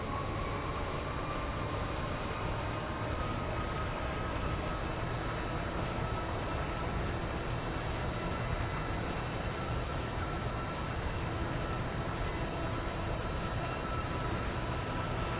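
A continuous, steady rumble of a train in motion plays in the Stepford County Railway video game on an express service to Llyn-by-the-Sea, constant and even with no talking.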